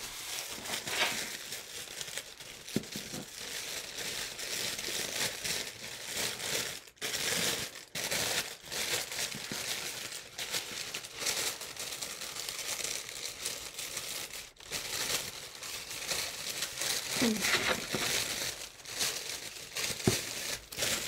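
Paper being folded into an origami dragon, with continuous close crinkling and crumpling plus scattered sharper rustles and creases throughout, alone with no voices.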